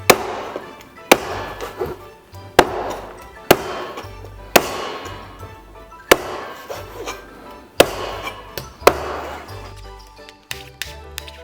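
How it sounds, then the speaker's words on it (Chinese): A cleaver chops a whole chicken into pieces on a board at home: sharp, loud, close thwacks land about once a second, each followed by a short ringing tail. "平时在家切鸡块呢，先大切6块"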